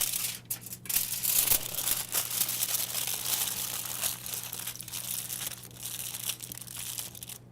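Tin foil crinkles and crumples steadily around a salmon fillet being wrapped for the oven, a close, continuous crackling rustle with a low steady hum beneath.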